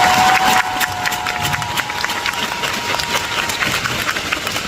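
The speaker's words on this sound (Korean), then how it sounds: "여러분들도 박수 한 번만 부탁드립니다" Fans at a fan concert applaud, a loud, steady wash of many hands clapping with some crowd noise that holds throughout and briefly dips early on.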